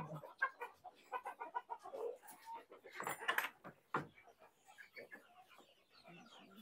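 Desi (native) chickens on a backyard farm give short, uneven clucks and a few louder squawks at close range, mixed with bumps and a voice talking nearby.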